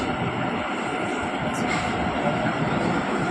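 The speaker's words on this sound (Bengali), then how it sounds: "ট্রেন ঢুকছে এই যে ট্রেন ঢুকে গেল" A metro train rumbles into an underwater station beneath the Ganges in India with a loud, steady roar and a brief high squeal, filling the space at close range.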